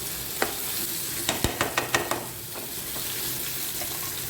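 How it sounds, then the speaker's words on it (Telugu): Tamarind juice poured into a sizzling masala fish curry (Andhra chapala pulusu) in a pan: a steady frying hiss with a quick burst of sharp crackles and pops, then a softer, even sizzle. "ఇప్పుడు చింతపండు రసం వేసుకోవాలి."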